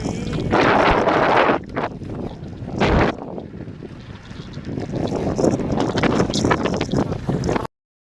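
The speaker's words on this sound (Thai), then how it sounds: "อากาศลมอากาศเย็น" Wind gusting hard across an outdoor microphone at a home in rural Laos or Thailand on a cool day, a continuous roaring rumble that swells and eases in waves for several seconds.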